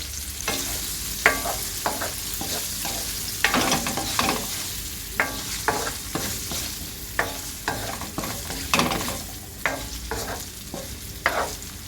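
Minced-meat meatballs frying in a pan for lebeniye soup, giving a steady loud sizzle with intermittent stirring scrapes, close up, with no voices.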